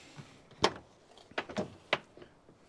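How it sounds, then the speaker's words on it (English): Driver's door of a Ford F550 rollback tow truck with a 6.0 Power Stroke, opened with a few sharp latch clicks and clunks close by, followed by fainter rattles, with no talking. "let's open the driver's door here"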